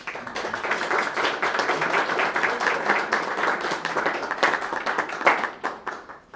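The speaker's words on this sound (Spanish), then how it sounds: "un aplauso para el doctor" Applause from a seminar audience after a talk on neuromorphic computing, steady many-handed clapping at moderate level for several seconds, tapering slightly toward the end.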